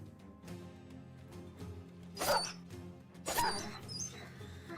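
Dogs in the video game Battle Brothers give a couple of short, sharp yelps or barks amid battle sound effects, moderately loud against a low game background.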